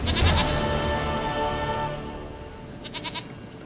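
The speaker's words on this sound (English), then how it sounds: "Goat of mine, dearest, sweetest goat." A goat in The Witcher 3 bleats loudly near the start, a long wavering call that trails off, then a few short quieter bleats follow near the end over steady ambient game sound.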